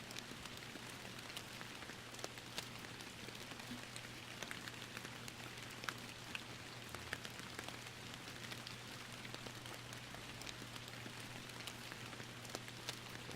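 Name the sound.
rain falling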